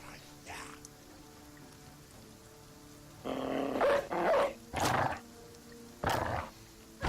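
A hound in the video game Battle Brothers barks in several short, loud bursts during an ambush, with rain-like background ambience underneath.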